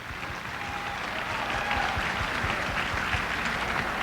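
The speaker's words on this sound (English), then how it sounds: "Please give them a round of applause." Audience at a 1998 Miss Los Angeles Chinatown pageant applauding the judges, a steady wash of many hands clapping that swells slightly and holds, with a faint tone lingering under it.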